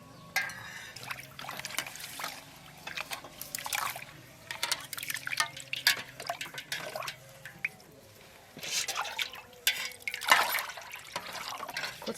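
Broken rice being washed by hand in water, faint sloshing, trickling and dripping with irregular splashes, quiet and close.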